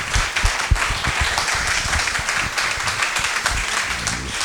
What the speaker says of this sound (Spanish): tenemos que darle un gran aplauso al doctor